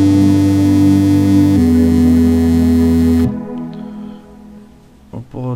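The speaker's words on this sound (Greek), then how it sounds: "Θα κάνω ένα automation στο μπάσο, μόνο στο frequency, και θα ακούγεται κάπως έτσι." Synth bass in FL Studio with its filter frequency automated, sounding as a loud sustained buzzy tone whose timbre shifts midway, then cutting off after about three seconds into quieter sparse sounds.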